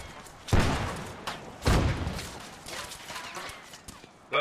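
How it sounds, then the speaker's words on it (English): Grenades going off in the Arma video game with a Falklands War mod: two heavy, booming blasts about a second apart, then smaller thuds and distant gunfire under a steady background rumble. "Permission to throw grenades over the fence."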